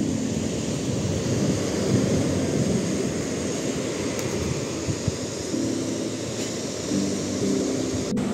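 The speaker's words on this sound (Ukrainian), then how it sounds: "насолоджуйтеся звуками моря" Sea surf rolling onto the shore near Odesa, a broad continuous wash of waves with gusty wind noise buffeting the microphone, fairly loud and unbroken for several seconds.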